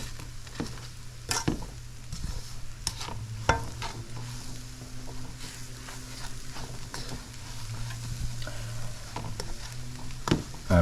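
Granulated sugar melts into coconut in a pot over medium heat for Guyanese sugar cake, giving a soft continuous sizzle with a spoon repeatedly scraping and knocking against the pot, close and unvoiced.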